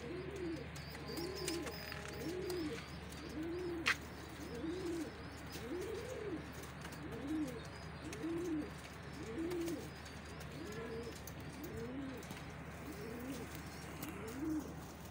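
Pigeons coo on a heap, a steady series of low repeated coos about one per second, close and continuous, with a few faint chirps and a distant hum behind.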